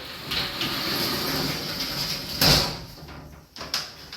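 A sliding shower door rumbles along its track with a hissing scrape, then a brief knock as it stops, against a steady background of rushing water.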